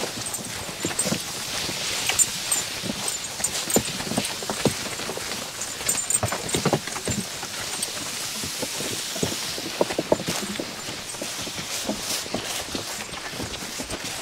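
Young draft horses walking, steady clip-clop of hooves repeating throughout over a hissy, rain-like outdoor background, fairly close with no talking.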